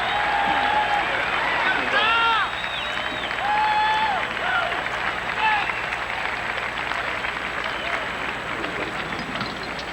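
A large golf gallery applauds Tom Watson's shot at the 1996 Memorial tournament, sustained clapping and cheering from a big crowd spread across the course, with a commentator speaking over it at moments.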